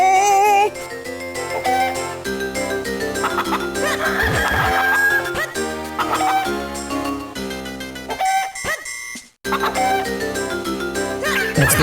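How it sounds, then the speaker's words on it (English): In The Legend of Zelda: The Minish Cap, chicken clucks and crowing sound over bright, busy game music with plinking melodies. The sound is loud and continuous, with a brief drop-out near the end. "What is that chicken noise?"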